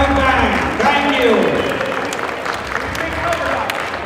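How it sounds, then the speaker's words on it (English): An audience gives a round of applause for the Gujarat State Police band at a Diwali gathering, sustained clapping heard under voices and crowd murmur at a fairly loud level. "Please give a big round of applause, Gujarati State Police band."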